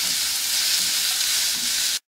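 Tomato and curry leaves sautéing in a pan for curry leaf soup: a steady, bright, close sizzle and crackle, loud and unbroken for two seconds before stopping abruptly, with no talk.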